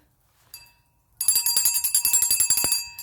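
A small hand bell jingles rapidly and brightly up close outdoors in winter, a quick ringing series after a faint first tap.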